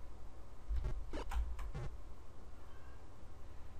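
A pet cat meows a few soft times in close succession in a quiet room, faint over a low steady background hum.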